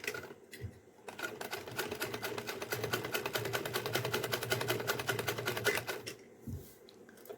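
A sewing machine stitches a small summer dress for a Laddu Gopal idol, running in a fast, steady, close burst of about five seconds before stopping, with no talking.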